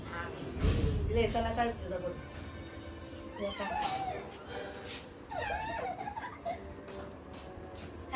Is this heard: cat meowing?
yes